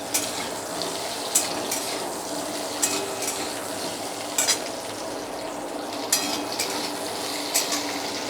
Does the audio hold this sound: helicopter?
no